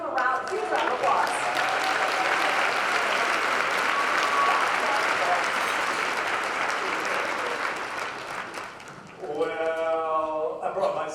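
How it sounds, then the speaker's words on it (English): Sustained applause from a large luncheon audience at a Hall of Fame event, dense and steady for about nine seconds before fading, then a voice begins speaking over the room. "Let's give him a huge round of applause."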